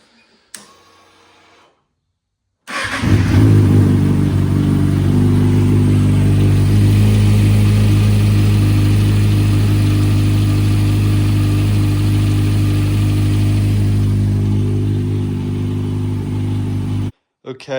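A Kawasaki ZX6R motorcycle starts from cold with a loud catch at about three seconds, then idles steadily and close with an underlying rattle before cutting off near the end.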